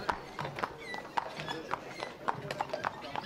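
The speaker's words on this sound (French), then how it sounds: "Plusieurs calèches ajoutent au charme rétro du cortège" Several horse-drawn carriages clip-clop along in a pilgrimage procession, a steady run of hoof taps at moderate distance with faint background murmur.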